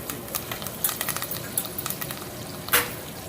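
Curry leaves drop into hot oil for an Andhra-style egg, brinjal and drumstick pulusu, crackling and sizzling in scattered bursts with light stirring clicks and one sharp spatter near the end.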